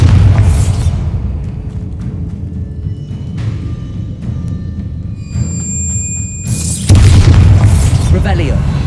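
Bombarda blasting spells go off in Hogwarts Legacy, with deep booming explosions at the start and again near the end, a rumbling tail between them, and voices talking throughout.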